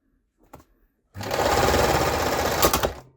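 A Chaika 132M sewing machine sews through thick fabric, starting abruptly after a few faint clicks and then running in a steady, loud, close mechanical whir for about two seconds before slowing at the end.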